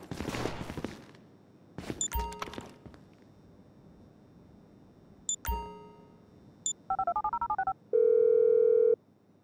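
Phone keypad dialing in GTA V: several scattered button beeps and clicks, then a quick run of tones and a steady held dial tone at the end, near and clean without talk.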